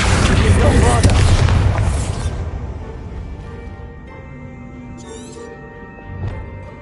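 A Bombarda explosion spell from Hogwarts Legacy bursts loudly at the start, rumbling and fading over a couple of seconds into a lingering game ambience, with a small pop later on.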